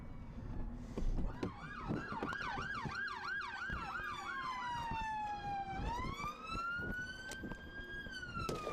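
A police car siren wails loudly, first in a fast warbling yelp and then in slower rising and falling sweeps. Vehicle and street noise sit underneath, with scattered knocks and thumps.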